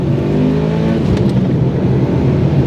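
A Mitsubishi Lancer Evolution 8 MR's turbocharged engine pulls hard under load, a loud, steady roar heard from inside the car that holds level for the whole stretch.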